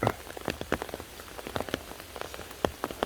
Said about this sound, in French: Donc là pendant 10 minutes là, ça pleut vraiment très fort